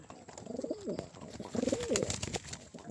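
Pigeons coo in two soft, rolling phrases, close by in a loft of nest boxes holding eggs and chicks, with faint rustling and a light background hiss.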